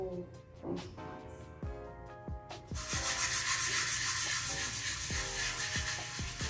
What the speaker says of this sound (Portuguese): Então eu vou lixar só para poder instruir vocês como que faz